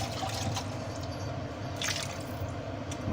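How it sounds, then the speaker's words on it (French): Water is poured into a pan of simmering tomato sauce for an osso buco of beef shanks, giving a close, continuous liquid splashing and bubbling with a few drips and no speech. "on va rajouter à notre petite préparation l'équivalent d'un 3/4 de boîte d'eau"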